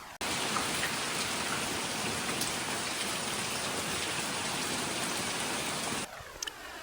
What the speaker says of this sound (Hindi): हम जहां हैं वहां पूरी रात से पानी गिर रहा है।